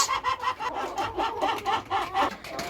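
Hens and a rooster clucking in a chicken coop in winter, a run of short, close, repeated clucks and cackles with no one speaking.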